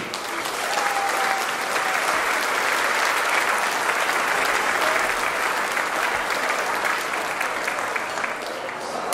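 A crowd at a country band show claps for the drummer, a loud, sustained roar of applause that runs unbroken for about nine seconds.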